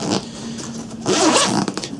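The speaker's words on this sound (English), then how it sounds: "the zips are a lot easier to open than they are to close" A zipper on a Cabin Max travel bag is pulled, giving loud close rasping zips in two bursts, a short one at the start and a longer one after a pause, with no talking.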